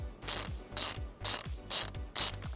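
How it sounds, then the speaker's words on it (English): A socket wrench fitted with a 10mm socket ratchets loose the nut on the positive battery post of a 2014 GMC Terrain, giving five close, rhythmic bursts of clicking strokes with no talking. "we're going to remove it using a 10mm socket"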